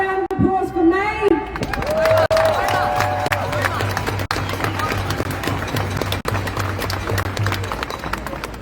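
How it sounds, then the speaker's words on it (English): A large crowd at a Free Palestine rally in Melbourne claps and cheers in sustained applause, dense and loud, with a brief shout at the start and crowd noise throughout. "One round of applause for me."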